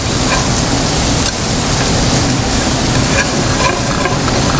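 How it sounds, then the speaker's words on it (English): A flat whisk scrapes the fond across the bottom of a pan while shallot sautés, making a loud, dense, continuous sizzle with rough scraping strokes mixed in and no voice. "Just scrape the fond, the little bits on the bottom of the pan into the sauce."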